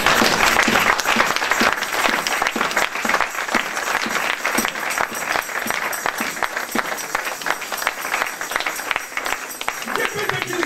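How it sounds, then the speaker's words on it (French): A church congregation applauds in a steady, dense wash of clapping that carries on for about ten seconds, with scattered voices beneath it. "Est-ce qu'il y a quelqu'un qui peut applaudir pour tout ce travail?"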